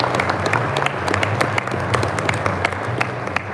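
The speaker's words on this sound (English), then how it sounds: "Let's go ahead and give a round of applause" An audience gives a steady, dense round of applause at an award announcement for a Billboard Tough Player of the Week, continuous clapping filling the room from start to finish.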